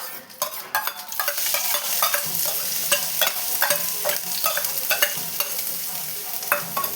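Crushed garlic and dried red chillies sautéing in hot oil for kollu rasam, a steady close sizzle broken by repeated scraping stirs of a spoon against the pan, with no voices.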